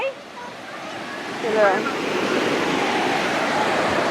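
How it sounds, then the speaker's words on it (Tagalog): Ocean surf rolling and crashing onto the beach at Camaya Coast, a steady broad wash of waves with wind, while people talk briefly over it. "Oh my gosh, ayan na yung alon."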